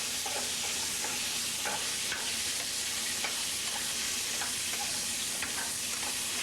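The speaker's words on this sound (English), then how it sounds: "Now, into the pan, let's go with our steak, okay?" A steak sears in hot olive oil in a pan, a loud, continuous, close frying hiss with faint irregular crackles and pops running steadily throughout, no talk.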